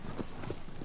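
Horse hooves clip-clopping in Shadow of the Colossus, a quick run of soft thudding steps at a steady trot, close and alone.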